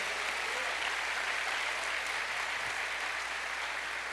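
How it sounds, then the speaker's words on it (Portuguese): Applause from a church congregation during a worship service, a steady dense wash of many hands clapping together, loud and sustained throughout with no break. "Você pode aplaudir esse Deus maravilhoso?"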